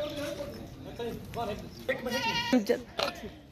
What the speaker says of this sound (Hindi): और टोटल ये 8 बकरे मैं आपको दिखा रहा हूँ, ये चेक करें माशाल्लाह।